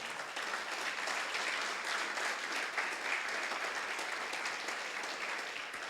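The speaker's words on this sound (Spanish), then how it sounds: "¿Le das un fuerte aplauso al Señor?" A church congregation breaks into sustained, even applause lasting around six seconds, many hands clapping together in a broad, steady roar with no voices on top.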